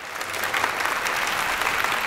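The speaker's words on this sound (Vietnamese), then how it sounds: "Mọi người dành một tràng vỗ tay" A studio audience at a Vietnamese television comedy show applauds, a dense and steady burst of clapping that holds at an even level from start to finish.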